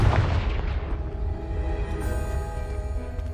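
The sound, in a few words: Confringo spell explosion blasting a pile, Hogwarts Legacy video game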